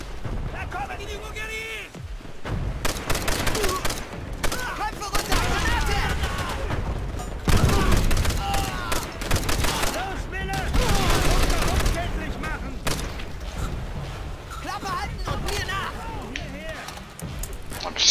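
Dense gunfire in Call of Duty: World at War, with rapid bursts, machine-gun fire and explosions rattling continuously and loudly, while players talk over it.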